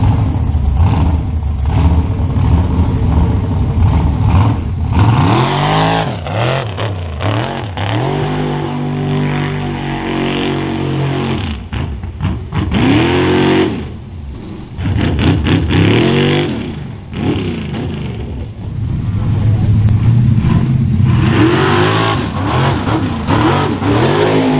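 Dan Perkins' mud truck, loud and close, revving hard in repeated bursts as it pulls wheelies, the engine climbing and dropping in pitch, with brief lulls between surges.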